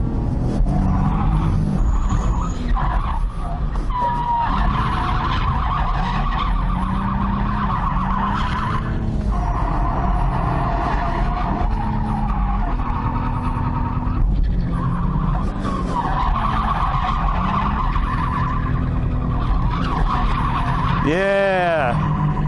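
Tires on a stock HR Nissan 350Z drift car screech loudly and almost nonstop as it links a drift, with the engine droning underneath and brief voices toward the end.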